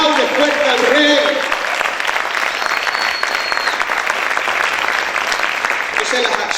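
Loud, sustained applause from a church congregation fills the space, many hands clapping at once with scattered shouts and voices mixed into the steady roar.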